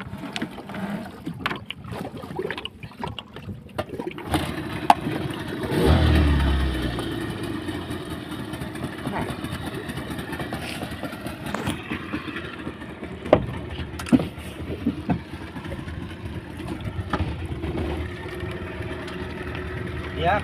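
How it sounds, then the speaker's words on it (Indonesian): An engine runs through a power test run, holding a continuous rough drone that swells briefly early on, while people talk over it. "sekarang kita akan tes lari, apakah tenaga mesin ini bertambah atau seperti apa"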